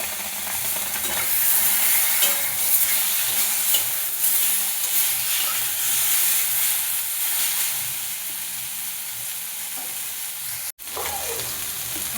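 Drumsticks frying with a paste of ginger and green chili, a steady loud close sizzle with stirring scrapes, one sharp knock near the end, no talk.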